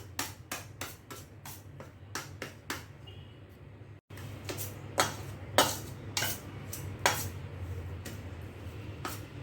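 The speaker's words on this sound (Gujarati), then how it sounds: "આમલી મિક્સ કરતા જશું" Spoon scraping and knocking in a pot as tamarind is stirred into mango pickle spice mix, a run of sharp clinks and taps at an uneven rhythm over a steady low hum, close and moderately loud.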